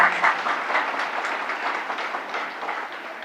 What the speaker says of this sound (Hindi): ये ताली की आवाज उतनी मजबूती के साथ बजनी चाहिए